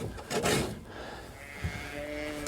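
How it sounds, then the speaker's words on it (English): Sheep on a farm bleat excitedly at close range, two loud calls near the start followed by quieter bleats and mechanical hum. "I don't know why the sheep got excited."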